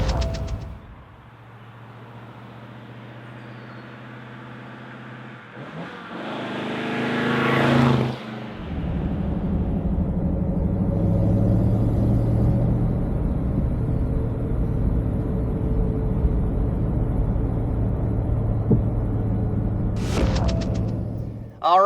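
A Ford V8 car with a manual transmission pulls off on a cold morning, its engine rumbling at idle, then revving and accelerating with a steady, loud drone as the car drives along the road, a brief clunk near the end.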